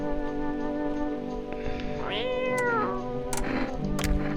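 A pet cat gives one clear, drawn-out meow with a rising then falling pitch, close by, over a steady low indoor hum and a few faint clicks.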